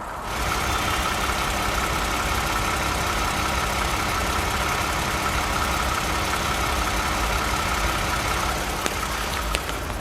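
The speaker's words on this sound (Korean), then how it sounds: "엔진은 바로 들려드리도록 하겠습니다" The 3.5-litre gasoline engine of a third-generation Toyota Sienna Limited idles steadily with the hood open, a smooth, even hum with a light mechanical ticking and no voices.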